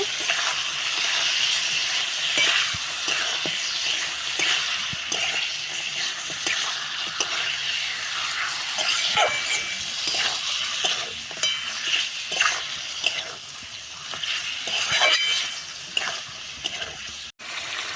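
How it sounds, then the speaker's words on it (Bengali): Mutton pieces being stirred for Bengali mutton kosha in a pan, with steady sizzling and repeated scraping strokes of a spoon across the pan throughout, loud and close, no talk. "এবার ভালোভাবে নাড়াচাড়া করিয়ে নেব।"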